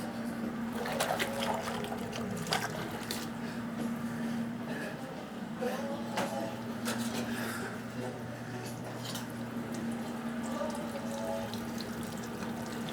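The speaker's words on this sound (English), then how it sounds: "I'm going to wash my hand again." A kitchen tap runs steadily while a hand is washed beneath it during chile relleno cooking, a continuous moderate stream with small splashes and clinks.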